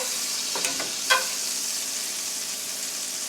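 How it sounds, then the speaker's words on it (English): A soft, continuous sizzle of butter frying in a pan at medium-high heat, with a couple of brief clinks from a utensil early on. "Ooh, that sizzle sounds good, doesn't it?"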